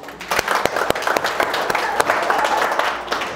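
Applause from a church congregation during a Christian sermon, a steady wash of clapping with sharp individual claps standing out, fairly loud and close throughout.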